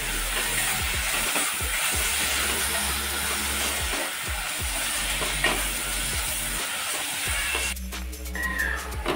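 Dried fish (sukat) mixed with masala is stirred in a pan, giving a continuous close sizzle with rhythmic spatula scrapes at intervals and a brief hissier burst near the end, no voices.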